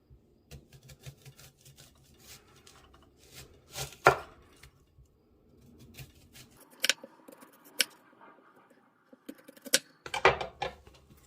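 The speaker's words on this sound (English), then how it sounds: "I'm going to cut it in a size I want. Probably a 1/4 inch in size." A kitchen knife chops onion and vegetables into quarter-inch pieces for pico de gallo, giving irregular close knocks on a cutting board, with sharp louder strikes around the middle and a cluster of chops near the end.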